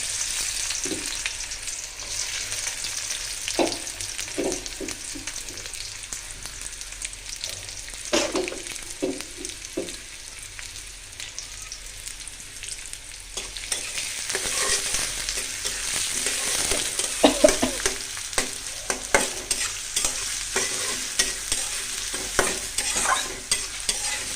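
Onion and spices fry in hot oil for a meat curry, with a constant close sizzle punctuated by repeated scraping and tapping of a spoon stirring the pan, the frying growing louder partway through.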